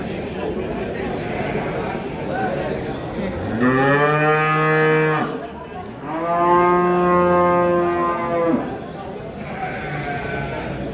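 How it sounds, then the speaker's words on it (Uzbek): Cows low loudly at a livestock market in two long, drawn-out harmonic moos, one after the other, over steady crowd murmur and background chatter. "Masalan, sizlar sigirlar qatori o'tdik."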